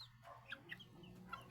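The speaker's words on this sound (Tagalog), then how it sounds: "Malupit ito ng mga manok." Chickens cluck softly in short, scattered calls, a few sharp notes spaced over about a second and a half, faint and close with a low background hum.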